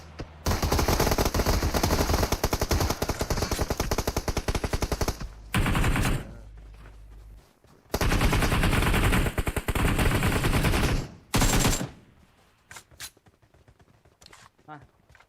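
Loud automatic gunfire from a multiplayer shooter video game, with long sustained bursts broken by short pauses, a few quieter isolated shots trailing off near the end, and a player's voice talking over it.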